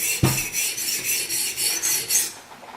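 A CTS-XHP steel knife blade is drawn repeatedly across a sharpening stone, giving a steady rhythmic rasping scrape in close, even strokes with no talking.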